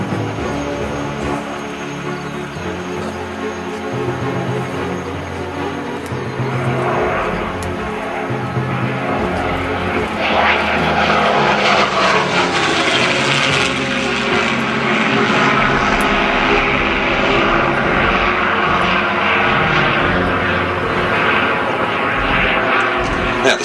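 A Supermarine Spitfire MH434 with its Merlin engine flies at an air show, and its loud propeller engine roar swells and shifts in pitch as it passes, with a public-address commentator speaking underneath.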